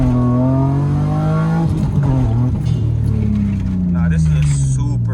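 A BMW E30 fitted with a limited-slip differential revs hard as the driver accelerates, engine tone rising and falling in pitch up close, with someone talking over it.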